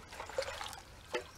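Creek material swirls in a gold pan, with soft, quiet water trickling and sloshing and a few small splashes.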